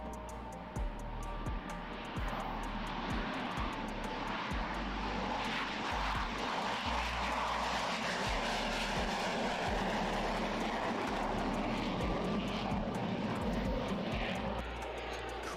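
Steady broadband engine roar of an X-47B stealth drone aircraft, loud and continuous throughout, with a low rumbling rhythmic thumping underneath and no voices.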